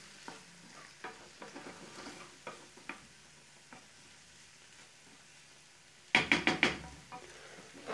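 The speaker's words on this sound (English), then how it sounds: "Give it a stir." Chorizo and yellow rice filling for stuffed poblano peppers sizzles quietly in a pan, with a series of soft scrapes and knocks as it is stirred, then a louder burst of sizzling near the end.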